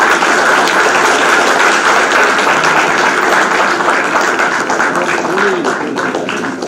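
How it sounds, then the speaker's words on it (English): An audience at a book release event gives sustained applause, a dense, loud wash of clapping that carries on steadily and fades slightly toward the end. "Give them a big round of applause."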